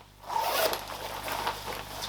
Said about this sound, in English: So it's a YKK zipper, single zipper, thin zip, goes in like so, zips all the way up like so